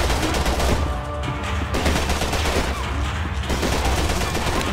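Sustained gunfire from Max Payne 3, set at an airport: a dense, loud, continuous rattle of shots with no break across the whole stretch, heavy and close throughout.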